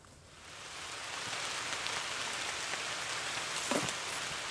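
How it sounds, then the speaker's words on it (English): Steady rain patters on leaves and ground in a forest, a soft, even hiss that fades in and holds, with a brief rustle near the end. "It's raining here in the forest right now."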